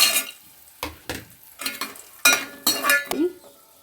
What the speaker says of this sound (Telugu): జీడిపప్పు వేసుకొని వేయించుకోవాలండి కిస్మిస్ కాజు